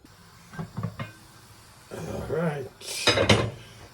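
Pumpkin pieces dropped into a boiling cooking pot, with a few scattered metallic clinks and knocks of cookware and utensils, fairly close, alongside a brief voice.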